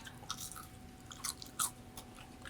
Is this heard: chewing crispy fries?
yes